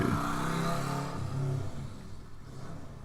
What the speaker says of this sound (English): Could you hear that motorcycle going outside my window?